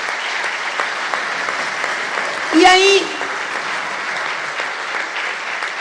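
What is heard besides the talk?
audience applauding in a played recording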